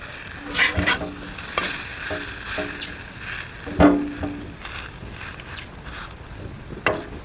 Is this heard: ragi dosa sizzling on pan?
yes